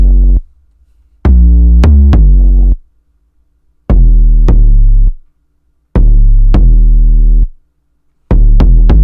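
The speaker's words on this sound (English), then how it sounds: "And the 808 by itself sounds like this." An 808 bass pattern programmed in FL Studio plays alone: deep booming sub-bass notes with sharp clicky attacks, grouped in short rhythmic bursts separated by silent gaps, loud and close throughout.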